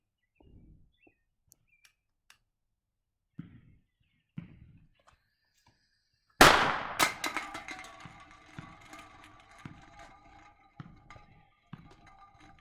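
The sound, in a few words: 1.5-inch firecracker exploding between two cans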